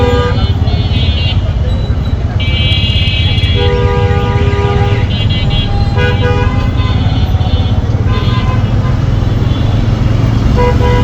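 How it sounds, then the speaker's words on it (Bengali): A bus ride through a heavy traffic jam, with repeated horn toots from surrounding vehicles layered over a constant low engine rumble, loud and close, with voices mixed in at times. "অনেক জ্যাম, অনেক জ্যাম, ট্রেনে বাসে যাচ্ছি, প্রচুর জ্যাম"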